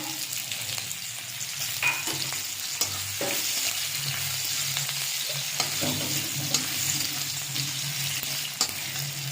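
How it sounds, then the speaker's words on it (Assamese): Dried chillies and onions fry in oil in a pan with a continuous close sizzle and crackle. Occasional stirring scrapes sound over it, and nobody speaks. "মই শুকান জলকীয়া আৰু ইয়াতে পিঁয়াজ দিছোঁ।"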